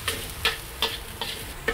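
Minced garlic and pork stir-frying in a wok for sautéed green beans, a steady sizzle punctuated by about five sharp, regular scraping clacks of the spatula, close and alone without talk.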